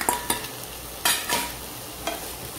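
Sliced capsicum stir-fried in a pan, a steady sizzle broken by a few sharp spatula scrapes and clacks as the strips are tossed and mixed.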